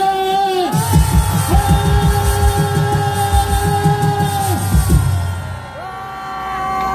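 A political rally crowd at a year-end gathering roars a sustained cheer for about five seconds, loud and close, with amplified sound and a bright, lingering tone over the yelling before it fades.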